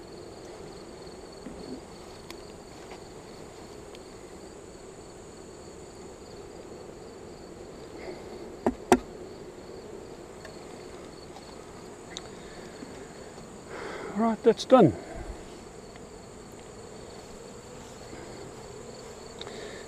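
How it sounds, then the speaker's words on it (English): A soft, steady hum of buzzing bees fills the background, with a few brief closer buzzes and light clicks; someone speaks briefly. "Bees are not perturbed at all."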